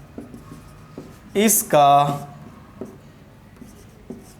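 Chalk or marker writing on a board during a Hindi-language maths class, heard as a short burst of scratchy strokes between brief speech from the teacher.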